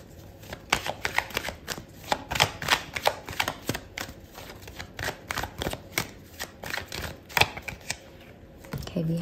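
Tarot cards shuffled and laid out during a love reading, a run of quick papery riffles, flicks and taps close to the mic, dense and irregular, with no talking.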